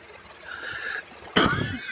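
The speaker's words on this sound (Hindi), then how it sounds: "खांस रहा हूं" A man coughs once or twice, harsh and close, after a quieter stretch, with a sharp loud burst near the end and no talk.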